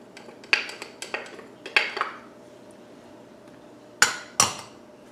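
Utensils and dishes clink in a kitchen as ingredients go into a pot of vegan sixteen-bean chili with chili powder, cayenne and chopped onion; several sharp knocks and clatters come in uneven bursts, close and fairly loud, with no talking.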